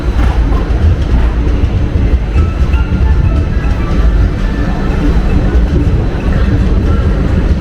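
A special train bound for Pune pulls out of Bangalore City station, its loud, steady rumble and wheel noise filling the whole stretch with no voices.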